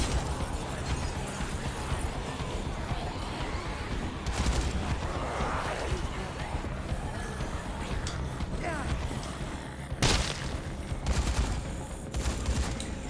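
Turret fire in Dead Rising 3, sharp bursts of gunfire at intervals over a constant rumbling, clanking game backdrop, loudest near the middle and end, with no voices.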